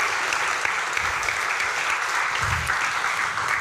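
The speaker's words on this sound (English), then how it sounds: "Give yourselves a round of applause" Steady, dense audience applause fills a conference hall at a Helsinki game-industry event honouring pitch-competition winners, loud and continuous throughout with no pauses.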